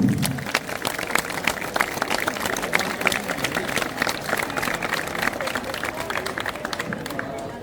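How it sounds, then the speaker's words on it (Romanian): Outdoor theatre crowd applauding, a steady wash of many clapping hands with crowd murmur throughout and people talking underneath, holding fairly even in loudness. "Să-l aplaudăm!"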